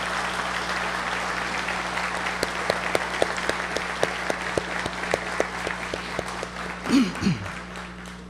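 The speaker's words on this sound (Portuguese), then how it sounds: "Eu peço uma salva de palmas ao nosso senador Paulo Paim." An audience at a formal opening ceremony applauds for senator Paulo Paim, steady clapping with some individual sharp claps standing out, and a voice briefly speaking near the end.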